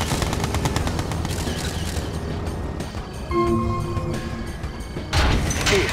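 Guns firing in the Red Alert 2 strategy game, rapid mechanical rattling bursts early on, followed by clanking and whirring unit and building sounds, fairly loud with no talking.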